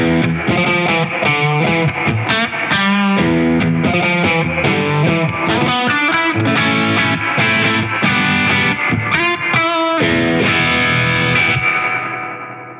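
Distorted electric guitar chords through a Light Pedal reverb, drenched in reverb, washing and sustaining loudly throughout, with the tail ringing out at the end.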